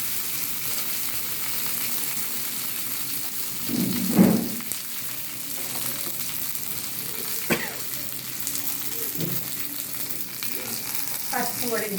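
Lentils and curry leaves fry in hot oil for a moong dal charu tempering, giving a steady close sizzle with a few louder bursts and faint utensil knocks.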